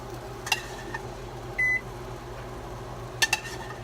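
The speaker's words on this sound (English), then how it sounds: "I wish you never learned how to push buttons on the microwave." Microwave oven buttons beep in a kitchen, with short tones scattered across the clip, including a single longer beep and a quick double beep, over a low steady appliance hum.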